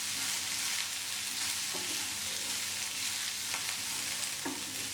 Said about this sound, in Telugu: ఇప్పుడు ఇందులో కరివేపాకు, ఆనియన్స్, పచ్చిమిర్చి ఇవన్నీ వేసి మిక్స్ చేసుకోవాలి.